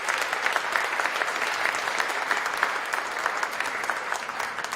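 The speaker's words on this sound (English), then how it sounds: "Please give a round of applause for" A crowd at a county Republican Party debate applauds, a dense, even wash of clapping that holds steady and fairly loud for several seconds in an indoor hall.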